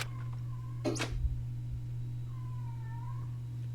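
A loud cat meows once, sharp and close, followed by a softer, drawn-out meow a moment later over a steady low background hum.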